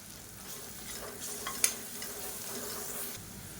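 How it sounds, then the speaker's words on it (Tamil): Ginger garlic paste sautés in hot oil in a pan for a homestyle lunch, a steady low sizzle with a spoon stirring through it and one brief clink, near and moderately quiet. "இப்போ இஞ்சி பூண்டு பேஸ்ட் நல்லா வதங்கிருச்சு"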